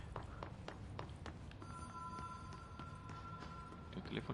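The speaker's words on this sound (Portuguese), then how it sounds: "Tem um telefone tocando." In the video game Control, a telephone rings with a sustained electronic bell tone amid a busy, noisy game soundscape of footsteps and ambience.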